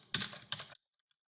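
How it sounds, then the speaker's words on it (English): Two short, close bursts of clicking keystrokes on a computer keyboard are followed by silence. "All they do is type in the email address and the word invite."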